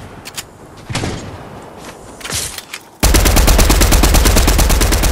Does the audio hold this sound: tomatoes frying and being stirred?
no